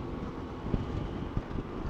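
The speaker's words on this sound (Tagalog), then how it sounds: "Oh, lakas ng hangin." Strong wind buffets the microphone outdoors with a steady low rumble and occasional gusting thumps, continuous and close throughout.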